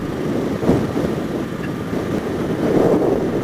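Triumph Speedmaster cruiser motorcycle riding at 70 mph on a motorway, heavy rushing wind buffeting the microphone in a loud steady roar that swells and eases, with no speech.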